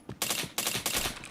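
Three quick, loud close-range gunshots from a first-person video game, each a sharp crack with a short ringing tail, fired in rapid succession.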